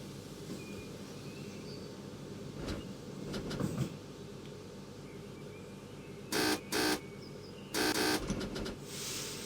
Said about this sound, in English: And we repeat the buzzer back to the guard.